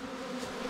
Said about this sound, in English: all these bees that are down there on the edge, and they're all buzzing furiously